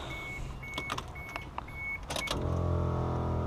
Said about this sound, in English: the compressor kicks in for the air ride suspension